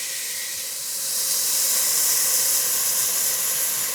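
Cut tomato pieces hit a hot pot and sizzle with a steady, bright hiss that swells after the first second and holds, with no voices.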